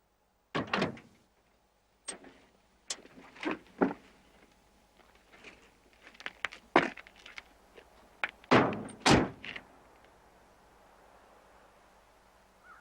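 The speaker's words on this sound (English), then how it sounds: "And Rowan, open the door and step out of the truck" A truck door opens and shuts during a police traffic stop in an action detective film: a series of close, sharp thunks, latch clicks and a hard slam spread across several seconds with quiet gaps between them.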